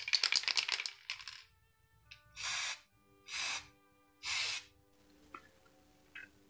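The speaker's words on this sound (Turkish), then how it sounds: "Uygulamaya geçmeden önce deniz kabuklarımızı sprey vernikle cilalıyoruz arkadaşlar." Spray varnish is sprayed onto seashells in three distinct hissing bursts, each roughly half a second long and close to the microphone. Earlier rustling and small clicking handling noises come before them.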